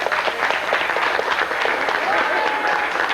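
Studio audience applause during a participation game on a cruise ship, a dense steady wash of clapping filling the whole stretch at close range, with a brief voice rising faintly through it near the end.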